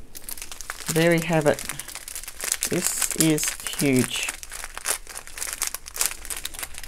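Plastic packaging crinkles and rustles while a diamond painting kit is unboxed, a soft scattered crackle running beneath a person talking close by.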